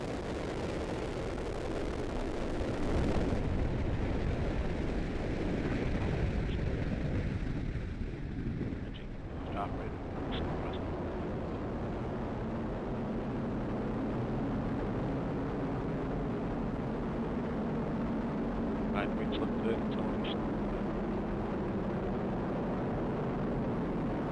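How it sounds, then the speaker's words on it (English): A United Launch Alliance Atlas V rocket ignites and lifts off carrying Amazon's Project Kuiper Protoflight mission, with a loud, continuous, deep broadband roar and rumble that holds steady throughout, heard from a distance. "We have ignition and liftoff of the United Launch Alliance Atlas V rocket, carrying the Protoflight mission for Amazon's Project Kuiper."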